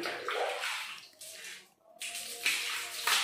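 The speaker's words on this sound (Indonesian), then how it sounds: "kita coba siram dulu" Water is splashed and rinsed over bathroom tiles after they were treated with Vixal scale cleaner, making a close, rushing gush that briefly stops, then pours again in steady bursts.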